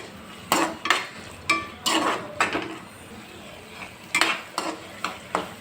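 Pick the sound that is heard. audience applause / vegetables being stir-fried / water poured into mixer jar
vegetables being stir-fried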